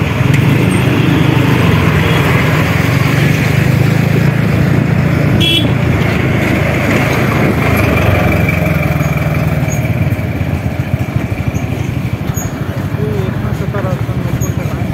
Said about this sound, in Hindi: ट्रैफिक पूरा जाम हो चुका है, और देख सकते हैं पीछे पीछे ट्रैफिक पूरा जाम हो गया